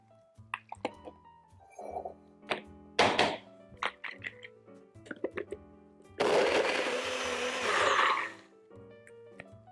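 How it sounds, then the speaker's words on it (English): A kitchen blender whirs loudly for a couple of seconds, blending plant milk with dates until smooth, after a series of sharp knocks and taps from setting up the jar. "Now we're just going to blend this up until it's really nice and smooth and you don't see any more date chunks"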